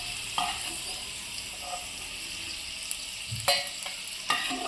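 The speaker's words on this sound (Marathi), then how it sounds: "आता मी लसूण टाकलेला आहे, त्याला आपण गोल्डन ब्राउन होतोवर फ्राय करायचा आहे" Garlic frying until golden brown for cheese garlic bread; a continuous hiss of frying with a few distinct spoon knocks and stirring scrapes, close and clear, with no one speaking.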